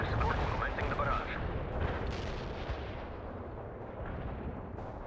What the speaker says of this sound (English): Artillery strike on the way. Artillery barrage.